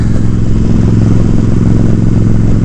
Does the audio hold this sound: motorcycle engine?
yes